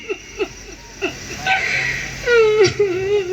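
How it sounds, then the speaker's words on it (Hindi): Woman crying and sobbing in a short Hindi stage drama: a run of short whimpering sobs in a rhythmic sequence, rising into longer, louder wailing moans, close and with no other talk. "पत्नी के रोने की आवाज सुनकर"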